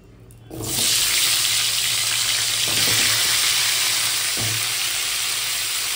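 Cauliflower florets going into hot oil left over from frying eggs set off a sudden loud, continuous sizzle that holds steady, with a few faint low knocks underneath.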